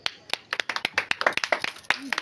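A small group claps hands during a children's glass-finding game, about a dozen quick, uneven claps close by over two seconds, with a brief faint voice near the end.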